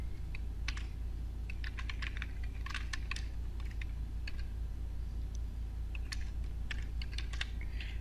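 Someone types a title on a computer keyboard in quick irregular bursts of soft key clicks, close and fairly faint over a steady low hum.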